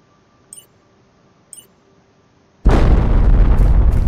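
A single loud, sudden bomb blast from The Planet Crafter roars in near and close after a quiet stretch with two faint ticks, then rumbles on at full strength with broadband debris noise to the end.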